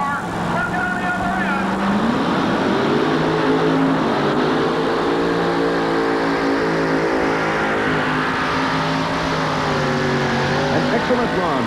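A super modified puller with a big alcohol-burning engine roars loudly and steadily at a tractor pull, its pitch climbing and holding through the run, with a commentator talking over it.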